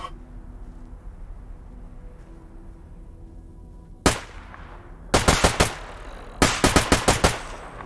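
Bursts of automatic gunfire in the S.T.A.L.K.E.R.: Anomaly video game, a single loud shot followed by two rapid volleys of several rounds each, close and sharp, with no talking.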